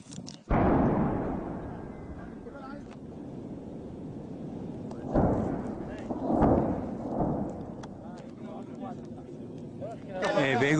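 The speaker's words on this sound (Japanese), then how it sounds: "今ひときわ大きい2回の爆発音が聞こえました。" Heavy blasts from US support air strikes over a Kurdish front line against ISIS, booming in a rough, rumbling sequence, with a sharp opening impact and two more prominent explosions partway through, resonating over a constant low background.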